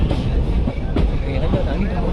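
A train at Yelahanka station in Bangalore gives off a close, steady rumble and a low mechanical drone, with faint clanks running through it.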